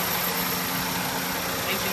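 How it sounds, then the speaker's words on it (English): A 2000 Toyota Corolla's 4-cylinder engine idles smoothly and quietly up close, a steady even hum with no revving. "a 2000 Toyota Corolla, 4-cylinder, let you listen to the engine"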